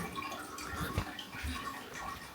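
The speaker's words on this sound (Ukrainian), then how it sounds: "А тут ось такий водоспадик" A small waterfall on a farm in Switzerland trickles and splashes steadily at low level, with soft dripping and gurgling water and no voices.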